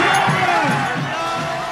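Crowd in Kermanshah, Iran cheering as missiles pass overhead, a distant, continuous roar of many voices and shouts blending into a steady outdoor babble.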